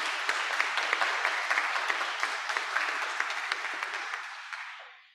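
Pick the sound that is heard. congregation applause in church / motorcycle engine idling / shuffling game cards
congregation applause in church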